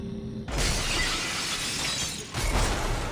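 A glass wall shatters in Dead Space 2, a loud sudden crash followed by a sustained spray of breaking glass and a second burst of shards near the end.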